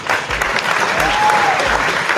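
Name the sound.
audience applause for Leo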